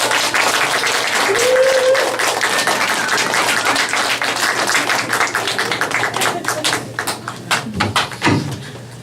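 A church congregation gives loud applause to welcome a missionary to the stage, starting as a dense, full wash of clapping and thinning into scattered claps toward the end.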